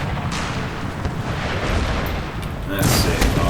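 Cannon fire from artillery in the Empire: Total War strategy game: dense booming bursts and rumbling blasts throughout, louder near the end, mixed with battle noise.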